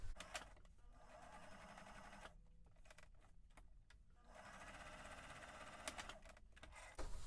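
A sewing machine stitches a seam in fast, rattling runs. It stops briefly between runs and starts again, heard close and alone.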